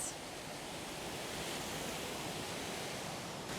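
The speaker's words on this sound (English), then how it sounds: "we're looking down the waterfall" A waterfall makes a steady, broad rush of falling water, seen from above it, which stays even and unbroken throughout with no voices present.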